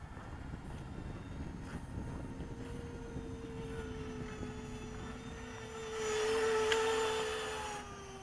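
A Convergence VTOL RC plane comes in to land on a lake, its electric motors whining steadily with a droning hum and rising into a louder, brighter whir near the end.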